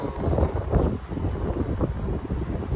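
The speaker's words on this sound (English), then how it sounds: "it is a little bit windy" Wind rushes and buffets against the microphone in a constant low roar with gusty surges.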